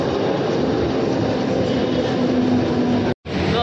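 A steady, dense rumble and rush from inside a moving train, continuous and loud throughout, with a brief dropout near the end.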